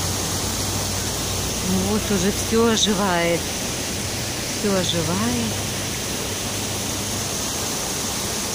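Water rushes steadily outdoors as a constant broadband hiss, with someone speaking briefly over it twice.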